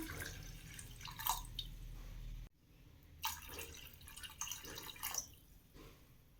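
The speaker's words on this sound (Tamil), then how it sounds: "இப்போ இதில் ரெண்டு டம்ளர் தண்ணி சேர்த்துக்கலாம்" Water splashes and trickles into a pressure cooker in two pours separated by a short pause, with gurgling drips, close and fairly quiet.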